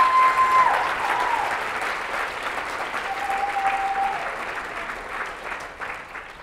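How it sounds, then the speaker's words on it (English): An audience applauds at a Zeitgeist Day talk, steady sustained clapping from a large crowd that holds loud throughout and slowly tapers toward the end. "Let's give them a round of applause, guys."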